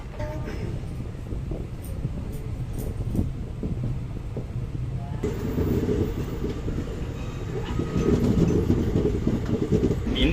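Andaman Express train at Chennai Central station, a steady low rumble of the train moving off that grows louder and busier partway through, with faint clicks on top.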